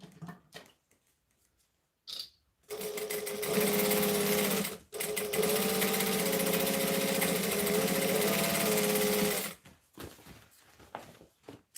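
A sewing machine chain-sews fabric at speed, its motor whirring loud and steady in one long continuous run after a few brief starts, then stopping abruptly.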